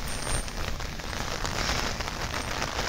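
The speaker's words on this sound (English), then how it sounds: "It's just us on the high street because it's raining." Steady rain falls on a quiet Scottish Borders high street, a dense continuous patter of drops on pavement and surfaces, close and even throughout with no voices.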